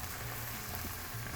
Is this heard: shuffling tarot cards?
no